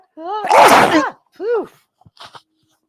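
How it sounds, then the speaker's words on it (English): A single loud sneeze bursts out close by, followed by a short vocal sound and a couple of faint sniffs or breaths. "I'll just show you how they work because I'm going to sneeze."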